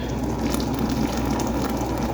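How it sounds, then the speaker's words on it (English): Boiling water pours from a kettle into a pot for Jamaican red peas soup with chicken feet and vegetables, a steady, close gushing stream running without pause. "So guys, I'm boiling water in my kettle. I'm gonna put some boiling water in here."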